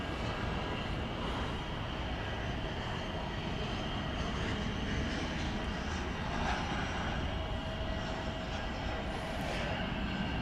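A tri-jet airliner at DFW Airport at night produces a continuous, fairly distant engine roar with a faint whine, steady and unbroken, and low background noise beneath it.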